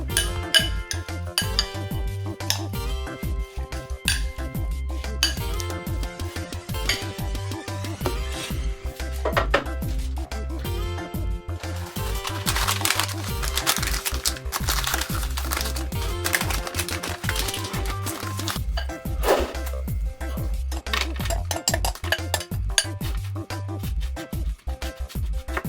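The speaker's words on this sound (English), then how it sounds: "mix crusted crackers with melted butter" Crushed crackers and melted butter for a no-bake strawberry cheesecake base are stirred together with utensils, giving a constant run of light clinks and scrapes against a bowl over steady background music.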